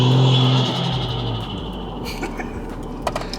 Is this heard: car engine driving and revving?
yes